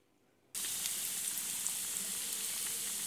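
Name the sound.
chicken frying in hot oil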